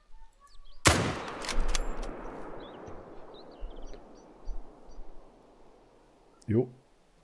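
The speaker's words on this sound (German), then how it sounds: "der war doch gut, der Schuss" A single sharp, loud hunting rifle gunshot in the video game theHunter: Call of the Wild rings out and echoes away, with faint rustling afterward and a brief voice near the end.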